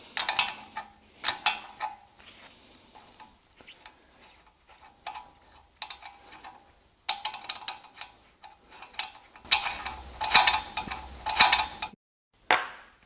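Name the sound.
removing a nut from a Peugeot 206 RC hub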